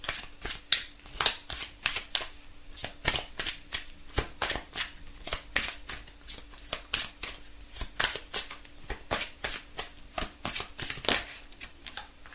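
A deck of oracle cards being shuffled by hand, a fast run of crisp riffling bursts in steady rhythm, close and fairly quiet, with no talking.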